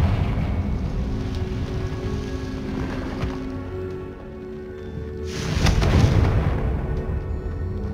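A Confringo fire spell explodes in Hogwarts Legacy, a rumbling blast with a low boom that swells near the end over steady low ambient rumble.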